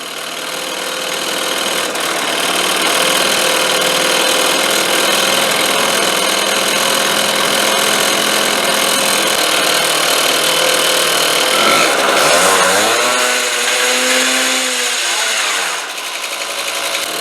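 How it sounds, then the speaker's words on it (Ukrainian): A Honda scooter's two-stroke engine, just fitted with an adjusted Chinese carburetor, holds a loud, steady high rev with a buzzing tone. Near the end it briefly surges and then drops back. "Все, тепер нормально починає газувати без переліва."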